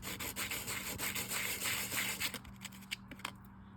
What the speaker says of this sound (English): What I'm going to do is just very gently sand this just to take the polish off of it.